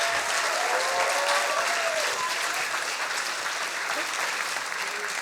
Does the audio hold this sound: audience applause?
yes